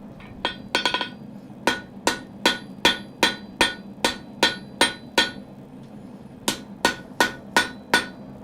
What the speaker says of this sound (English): So just hammering around helps get some of this stuff ready.